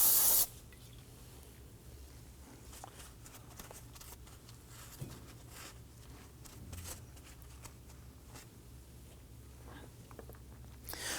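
Steady, faint hiss of a spray can spraying down a brake bleeder on a Nissan Murano during a brake bleed, running continuously with soft clicks and rustles and no speech.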